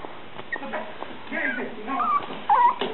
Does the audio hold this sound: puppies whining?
yes